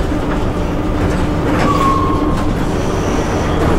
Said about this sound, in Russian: Так, электричка на встречу идет.